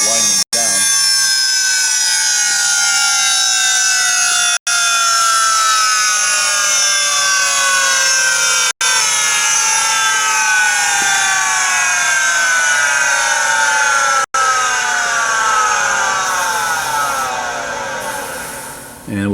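A Technica ZSM-5100 center hole grinder with rotary-planetary circular motion powers up to a loud, high whine that holds steady for a long stretch, then slowly falls in pitch as the machine winds down.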